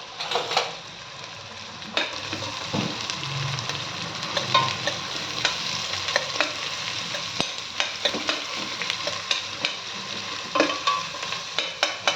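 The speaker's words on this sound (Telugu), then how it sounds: "బాగా వేగాలండి. ఇవి వేయించుకోవాలి మంచిగా." Onions frying in oil for a chicken curry, a continuous sizzle broken by repeated scraping and clinking stirs of a spoon against the pan, close and fairly loud with no talking.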